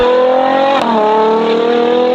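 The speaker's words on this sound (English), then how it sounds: "She really loves revving up there." A Novitec-modified Ferrari Purosangue with a paddle-shift eight-speed gearbox revs hard. Its loud, close engine note holds a steady high drone, dips briefly and then climbs again, with no talking over it.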